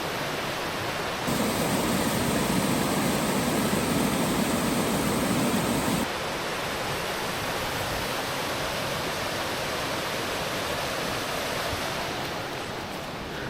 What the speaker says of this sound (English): Full on waterfall.